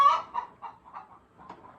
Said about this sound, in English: If you look at the chicken and look at the color of its earlobe, it determines the color of the egg